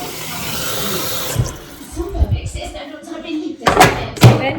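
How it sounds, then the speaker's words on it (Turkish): Water poured into an electric kettle in a home kitchen: a short splashing pour, followed by clattering and knocks, then two sharp bursts of running water, with a voice talking briefly. "Burada böyle ketilime su koyuyorum."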